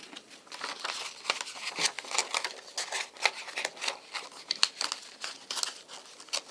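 Scissors cutting along drawn lines on a sheet of paper, giving irregular crisp snips and crinkling rustles close by, with brief pauses between cuts and no voice.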